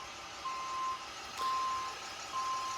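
Outside, a truck delivering a car sounds its reversing alarm: three steady, evenly spaced beeps, somewhat muffled and distant, over faint engine rumble and room ambience.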